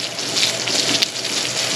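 Water gushes steadily from a newly connected well on a homestead, a dense, continuous hissing rush with no voices over it.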